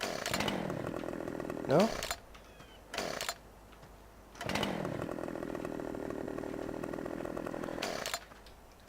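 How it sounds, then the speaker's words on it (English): A chainsaw runs on a farmyard, revving in several loud bursts separated by idling gaps, with a brief spoken word heard between the roaring runs. "I like walking about with a chainsaw."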